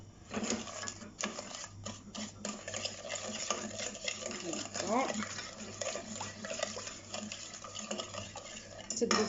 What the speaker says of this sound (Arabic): صافي كنحاولوا اننا ندمجوا هاد العناصر هادو مع بعضهم